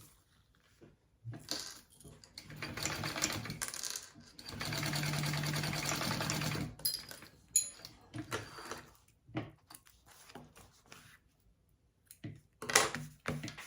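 A sewing machine basting a bag flap onto the top panel, running in short bursts and one longer steady whir between pauses, with occasional handling clicks and rustles nearby.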